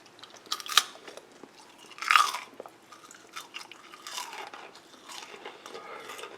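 Crunchy homemade caramel corn being chewed up close: a few sharp crunching bites stand out near the start, followed by softer, steady chewing with no talking.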